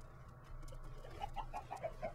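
Chickens on a Minecraft chicken farm give a run of about six short, evenly spaced clucks in the second half, faint against a low background hum.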